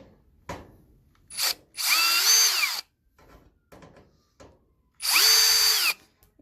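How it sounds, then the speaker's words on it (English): A cordless drill in reverse whirs in two short bursts removing screws from a stove's back panel, pitch sliding as it runs, separated by light clicks and handling noises. "So I'm going to grab my drill right here."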